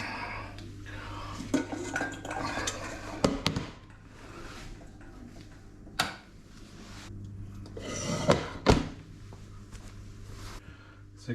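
Cooking pan and cutlery clattering in a kitchen, with irregular clinks and knocks spread across the stretch, some sharper metallic hits standing out over a low steady hum.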